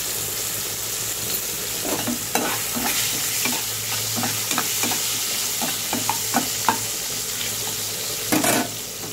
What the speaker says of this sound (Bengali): আলুটাকেও আমি একটু ভেজে নেবো।